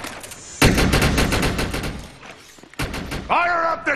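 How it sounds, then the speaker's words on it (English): Rapid bursts of automated turret gunfire in the video game Defiance, loud close cracks in quick strings with brief gaps, while a voice talks over the shooting. "Those guns are gonna keep firing until we shut down the generator."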